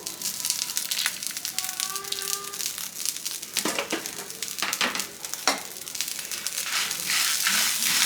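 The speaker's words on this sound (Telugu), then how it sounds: "ఇవి ఇలా కొద్దిగా ఫ్రై అయిపోతున్నాయి కదా." Dry red chillies frying in a pan with coriander seeds, cumin and rock salt: a continuous close sizzle and crackle, broken by scraping and stirring strokes and a few brief clinks.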